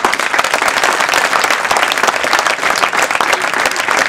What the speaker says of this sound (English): do clap and let me know